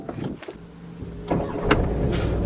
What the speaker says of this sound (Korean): 처음 시동 걸릴 때 엔진의 굵은 회전 질감 느끼게 됩니다